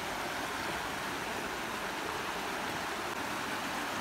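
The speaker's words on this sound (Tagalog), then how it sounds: "That is the river." A riverside river in Thailand flows with a steady, even rush of water, continuous and moderately close, with no voices over it.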